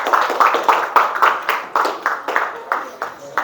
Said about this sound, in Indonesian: Sekali lagi beri tepuk tangan untuk kelompok 1.